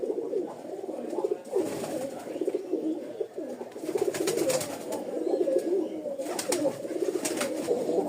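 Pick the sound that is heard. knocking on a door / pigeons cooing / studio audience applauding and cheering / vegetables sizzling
pigeons cooing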